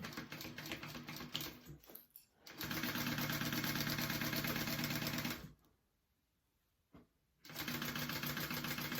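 Sewing machine stitching handbag pieces together, a fast buzzing run of stitches in two long bursts separated by short pauses, fairly close and alone.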